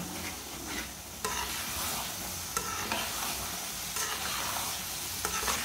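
Thick maize halwa bubbling and spattering in a pot as it is stirred, a continuous dense sizzle with periodic louder scraping strokes every second or so, close and fairly loud.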